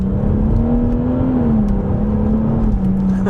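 A BMW M140i's exhaust heard from outside holds a steady, loud engine drone with a smooth tonal hum that rises slightly and then eases. It is close and continuous, with no talking.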